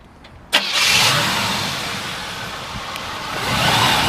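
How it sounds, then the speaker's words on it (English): A 1968 Chevrolet Camaro engine cranks and catches with a sudden burst, then settles into a steady, smooth idle that swells slightly near the end. "We're going to go ahead and fire it up for you."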